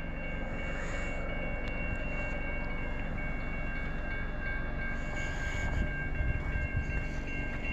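An Amtrak IDTX passenger train, westbound and led by a single IDTX locomotive, rushes past at speed near Emmett, Michigan, a loud continuous rumble of wheels with steady tonal whine and a brief horn-like tone.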